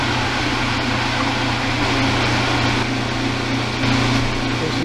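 A food processor blending chickpeas into hummus, running as a steady, loud motor whir with a constant low hum and grinding texture throughout, alone without speech.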